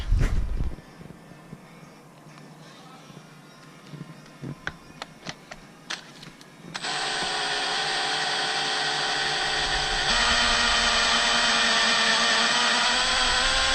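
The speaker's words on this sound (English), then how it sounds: "So I'm gonna go ahead and taper that real quickly." A taper machine tapering a sleeve starts with scattered clicks and knocks, then switches on into a loud, steady electric whine and hum that steps up slightly partway through and runs on continuously with no talk.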